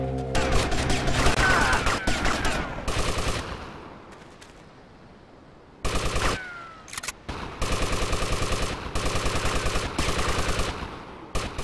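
Bursts of rapid gunfire in Grand Theft Auto Vice City, a loud sustained volley, a quieter lull, then several more sharp repeated bursts close up.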